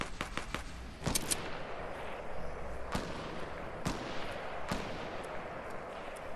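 Gunfire in a duo match of a shooter video game, a handful of sharp isolated shots spaced a second or so apart over a low rumbling background.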